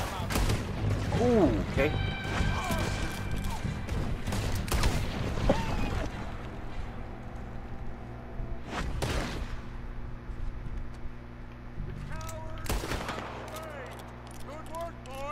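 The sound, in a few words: gunshots in the video game Red Dead Redemption 2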